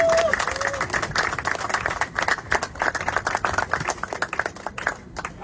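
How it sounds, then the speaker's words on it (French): Audience applause at a public address in Kinshasa, dense clapping from a crowd sustained throughout, fairly loud and close, with a voice partly audible beneath it. "je vous demande d'applaudir sur le directeur levé"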